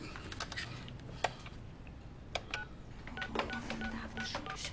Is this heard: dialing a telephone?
yes